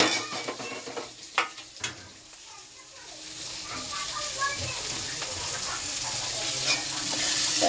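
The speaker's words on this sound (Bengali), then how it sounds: "এবার লঙ্কা পেঁয়াজটা দিয়ে ভালো করে লাল করে ভাজবো" Chili and onion fry in a pan on a gas stove, opening with a couple of sharp utensil clinks before a steady close-up sizzle rises and grows louder to the end.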